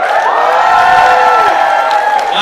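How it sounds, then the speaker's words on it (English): The Pakistan side of a comedy-show crowd roars with loud, sustained cheering, shouts and applause that fill the whole moment without a break. "let's have Pakistan give us a round of applause as loud as you can"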